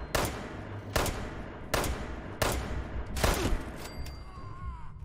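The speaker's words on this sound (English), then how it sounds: "Oh, somebody is shooting." Gunfire in the Fallout 76 video game: five sharp, loud shots spaced about a second apart, each with a short ringing tail, followed by quieter game ambience with a faint tonal whine.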